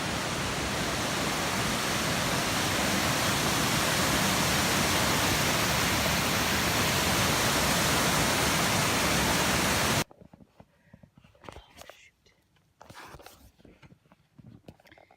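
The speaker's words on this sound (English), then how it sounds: "It's a little side trail to a beautiful tall waterfall." Tall waterfall at Long Falls on a wooded side trail, a loud dense roar of falling water held steady for about ten seconds, then an abrupt cut to quieter woodland background with faint scattered sounds.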